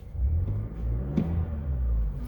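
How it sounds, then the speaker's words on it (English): A 2020 Toyota Camry SE engine runs with a steady, slightly gritty low rumble, nearby and fairly loud, with a brief rise in revs midway and no talking. "the engine does sound a little bit gritty and noisy at times"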